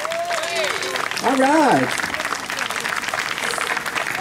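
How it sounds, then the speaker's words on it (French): Applause from a jazz festival audience fills the background while a voice speaks briefly in French over it. "Vous pouvez applaudir"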